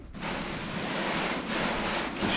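Water sprays onto a test panel coated with two dozen sealants, waxes and ceramic coatings at its first wash after two weeks, a loud, steady, close hiss running unbroken throughout with no voices.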